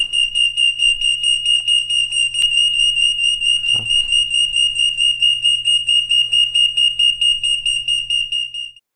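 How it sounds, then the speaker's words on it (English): A Scout home security alarm sounds a loud, piercing electronic beep pulsing rapidly and evenly for several seconds, with a brief low thump partway through, before cutting off as it is disarmed. "we're going to let the alarm go off now and show you it being disarmed again"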